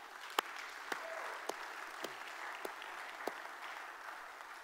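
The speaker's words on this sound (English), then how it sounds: "Let's give her a clap." A faint, distant wash of audience clapping runs steadily through the clip, with a few isolated sharper claps punctuating it at irregular intervals.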